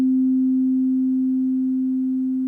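A pure sine tone from an iPad holds one steady pitch alone, clean and loud, slowly fading in level over a few seconds.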